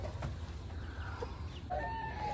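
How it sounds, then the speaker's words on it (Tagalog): Purebred white Kelso chickens cluck softly at a distance over a steady background hum, with a few short, higher calls toward the end. "So, yan yung mga pure breed white kelso natin galing kay Sir B-Boy Enriquez."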